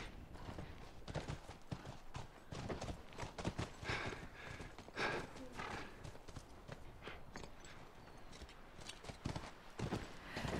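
Horse hooves clip-clop steadily in The Last of Us, a mount being ridden at a walking pace, close and fairly loud over a busy game soundscape with no talking.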